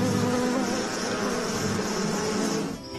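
Many bees at an apiary buzz in a dense, continuous drone that stays steady and close, with a few individual bees humming past, heard alone.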